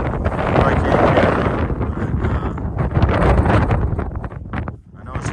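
Strong wind roars across the open summit of Mount Lafayette above the tree line in the White Mountains, a loud continuous buffeting rumble battering the microphone throughout.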